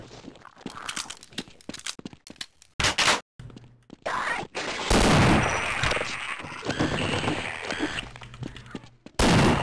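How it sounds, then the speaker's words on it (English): Shotgun blasts fire in the game Half-Life, loud close booms mixed with bursts of rapid gunfire and combat noise, separated by brief silent gaps. "Here's your prize, a shotgun to the face."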